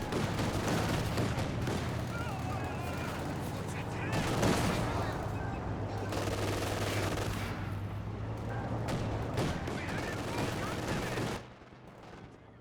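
MG42 machine gun bursts in the World War II strategy game Company of Heroes 2, long rattling volleys mixed with other gunfire and explosions, sustained at high intensity before dropping off near the end, with a voice talking over it.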